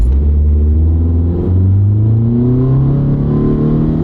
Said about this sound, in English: This is a 2-liter engine. It's a decent sized engine.